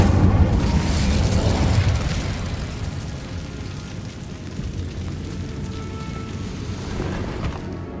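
An Incendio fire spell blast from Hogwarts Legacy erupts as a loud, roaring burst that swells for about two seconds, then settles into a steady crackling, rushing fire-like hiss that continues throughout.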